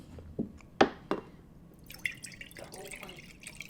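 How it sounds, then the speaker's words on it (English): Water being poured into a glass for a drink: a few sharp splashes and drips, then a softer trickle of liquid, close and fairly quiet, with no talk. "Let me get some water because my mouth is a little dry."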